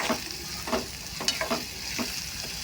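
Onion and tomato fry in a pan for egg bhurji, a continuous soft sizzle broken by several rhythmic scrapes of a spatula stirring close by.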